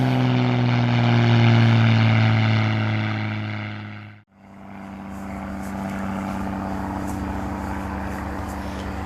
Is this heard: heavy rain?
no